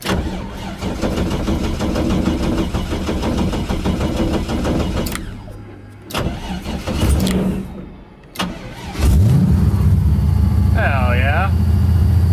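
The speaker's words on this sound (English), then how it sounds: "Okay, let's see if this thing will start up." A Mazda FC RX7 with a rotary engine cranks in short bursts, catches and settles into a loud, steady idle close by, with a few pauses between start attempts and voices talking faintly in the background.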